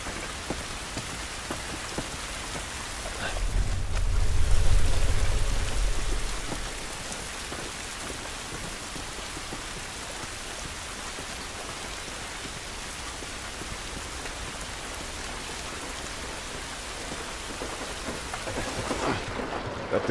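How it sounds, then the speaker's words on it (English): Rain in The Last of Us video game falls steadily and evenly as a dense hiss of drops on surfaces, with a brief low rumble swelling early on, and no talk. "This rain ain't gonna do us any good."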